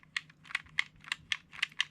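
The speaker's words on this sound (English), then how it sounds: "The little clicking sound is what I'm talking about." A Boonboom Changer toy wheel from Bakuage Sentai Boonboomger clicks as it is turned against resistance, about eight crisp plastic clicks in an uneven rhythm, close and distinct over a quiet low hum.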